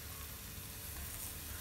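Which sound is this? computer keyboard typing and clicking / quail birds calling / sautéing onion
sautéing onion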